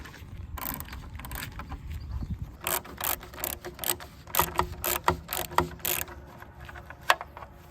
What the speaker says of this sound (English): I'm going to use an 11mm socket wrench to remove the bumper cap.